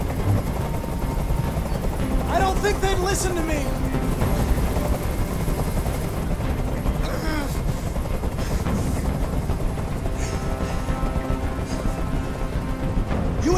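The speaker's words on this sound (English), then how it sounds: "I can't stand that noise anymore. Tell that helicopter to get out of here." A helicopter hovering in the video game Detroit: Become Human, its rotor chop and engine rumble droning steadily throughout, loud and close, while someone speaks briefly over it.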